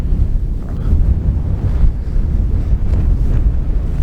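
Strong wind at a high, open viewpoint near Manchester, a loud continuous buffeting roar blasting the microphone with low rumble throughout, no talk.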